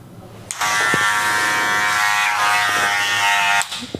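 Electric hair clipper buzzing close by while cutting hair for a V-shaped fade haircut, a steady loud hum lasting about three seconds with a switch-on and switch-off click at either end.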